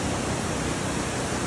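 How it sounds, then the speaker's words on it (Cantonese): Roaring water of a waterfall in the Maling River canyon in Guizhou, one of a cascading group of falls, heard as a loud, dense, steady rush with no break. "呢個已經係出現咗第4條瀑布啦"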